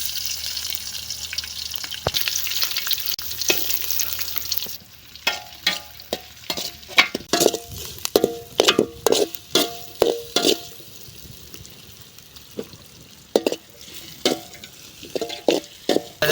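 Onions and green chillies frying in oil with dal and mustard seed tempering, a hissing sizzle that gives way to a long run of rhythmic spatula scrapes and taps against the pan.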